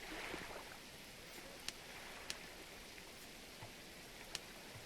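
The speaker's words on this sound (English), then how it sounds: "Sounds like there is a bit of a storm outside." Soft, steady rain from a storm in the pirate sailing game Sea Dogs: To Each His Own, a faint continuous hiss with a few scattered drip-like taps.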